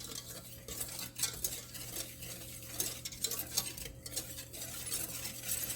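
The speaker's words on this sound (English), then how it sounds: "So I've got the sugar and the cornstarch, and I'm kind of just going to toast the cornstarch a little bit." Sugar and cornstarch toasting in a pan, stirred with repeated close scraping strokes and light clinks over a faint sizzle and a low steady hum.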